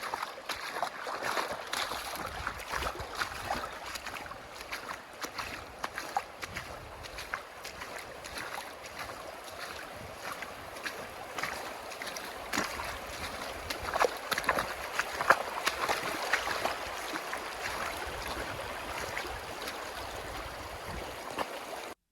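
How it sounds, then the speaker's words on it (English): River water flows along Sulphur Creek in Capitol Reef National Park, a continuous rushing and gurgling with wind gusting into the microphone, no talk. "let you experience the river the way I did"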